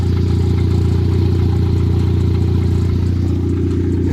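Turbocharged Acura Integra with freshly bled brakes and new drilled and slotted rotors, driving around the block: a steady, loud, close engine drone holds throughout, with no voices.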